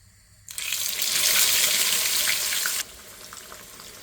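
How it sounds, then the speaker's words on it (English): Aubergine cubes marinated in turmeric and salt, for a Sri Lankan aubergine and plantain curry, hit hot oil with a sudden loud sizzle that holds for about two seconds, then drops to a softer, crackling fry. "Now we're going to be frying these up."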